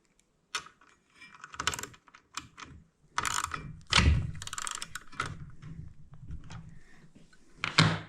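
A ratchet tightens the arbor bolt on a Makita circular saw in a run of quick clicking bursts, close and fairly quiet, separated by short pauses and metallic handling noise.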